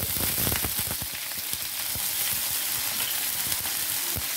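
Chicken fries in a pan with a dense, continuous sizzle and frequent sharp crackles and pops, close and loud from start to finish.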